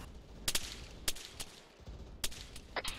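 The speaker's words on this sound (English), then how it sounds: "There's enemies shooting." Enemy gunfire in Arma 3, scattered sharp cracks at a distance, faint and irregular with a few paired shots over a low background hum.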